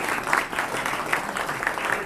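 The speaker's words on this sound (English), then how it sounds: "Give Tom a nice round of applause" Audience applause at a company holiday luncheon in a banquet hall, a steady wash of many hands clapping at even volume throughout, fairly close and continuous with no pause.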